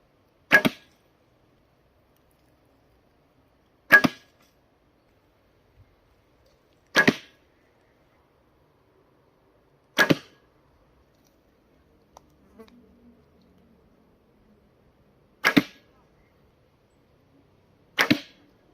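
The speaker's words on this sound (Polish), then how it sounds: "to teraz będziemy sobie strzelać ze strzał drewnianych." Six sharp snapping shots of wooden arrows from a deflex-reflex recurve bow, 30 lb at 28 inches, each a crisp thwack, spaced a few seconds apart in otherwise quiet surroundings, close and loud.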